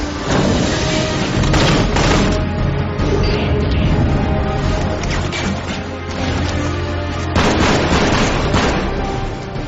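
A ten-year-old shooter video game blasts dense gunfire and heavy booms in rapid, overlapping bursts, loud and continuous, with the strongest volleys near the start and again toward the end, and no speech.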